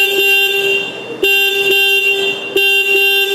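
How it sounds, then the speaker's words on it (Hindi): A Bajaj Pulsar NS 125 motorcycle horn sounds alone in three close, loud blasts, a long one followed by two shorter ones, with a steady buzzy tone. "NS 125 का हॉर्न।"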